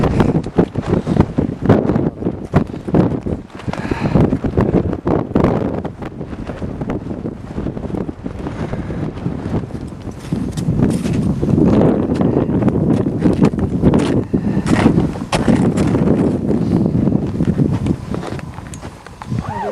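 Strong gusting wind on a high mountain buffets the microphone for the whole stretch, a loud, rough roar with sharp flapping bursts and rumbling surges.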